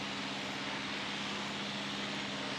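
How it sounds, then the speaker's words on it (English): Qantas airliner taxiing toward the gate at an airfield near the Canterbury Aero Club, a steady distant engine drone with a constant hum, heard alone without talk. "we can see Qantas again. There's Qantas. It's going to make its way to the gate."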